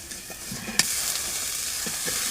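Onions frying in a pan with turmeric and salt are stirred, giving a steady low sizzle with soft scraping strokes and one sharp utensil tap near the start.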